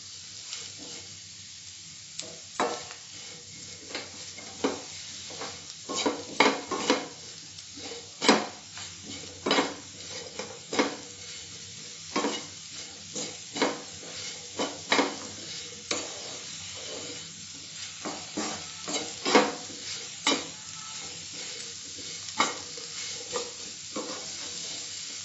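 Mushrooms are stirred and fried in oil with spices for a restaurant-style mushroom pepper fry: a low background sizzle broken by frequent loud, irregular scrapes and clanks of a spoon against the pan, close up, with no talking.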